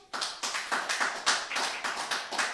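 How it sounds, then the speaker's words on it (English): A few people clapping at a live Star Wars cantina event, sparse and close, with distinct rhythmic claps spaced roughly every quarter second rather than a full crowd roar. "Let me hear your applause."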